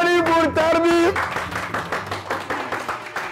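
An audience at a live rap event bursts into applause after a sung voice, a rhythmic clapping wash that carries on alone.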